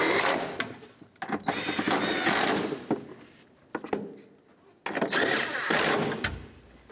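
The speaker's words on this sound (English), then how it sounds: "So let's go ahead and tighten these all up." A power tool, likely a cordless impact or ratchet, snugs up the front catalytic converter bolts on a Ford Escape, firing in several short bursts separated by pauses.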